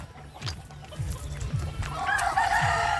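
A neighbour's chicken clucking and crowing outdoors near a birthday gathering, repeated low clucks followed by a louder drawn-out crow, with faint background noise.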